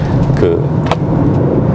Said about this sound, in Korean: 이렇게 흡기 소리가 들리긴 하는데